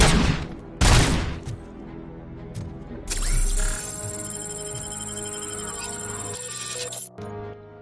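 Gunfire from a self-reloading pistol in the RoboCop: Rogue City video game: two loud shots open, followed by a sustained metallic mechanical whine with clicks and game sound effects, no talking.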